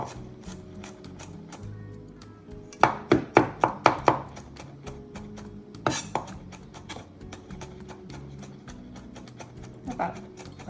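A knife rough-chops garlic on a board, with a quick run of five or six sharp close chops, then a few scattered cuts later, under a bit of background noise.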